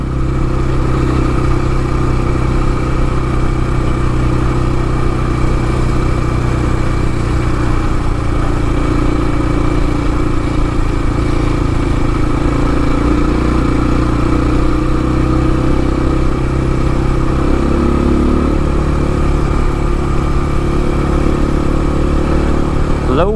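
A Templar X motorcycle rides slowly at low speed over brick pavement, its mid-pitched engine droning steadily and loudly throughout with slight rises in revs.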